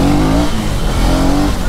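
A motorcycle engine in first gear revs loudly as the throttle opens, a steady close roar with rising harmonic tones that swell, dip briefly and climb again across the short burst.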